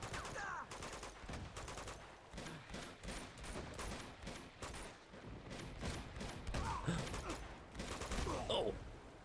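Gunfire in the Uncharted 2 video game, including shotgun blasts, rapid repeated loud shots in bursts across the whole stretch, with a voice briefly audible between volleys.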